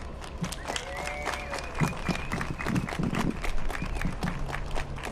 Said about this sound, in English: Can we give Wes another round of applause?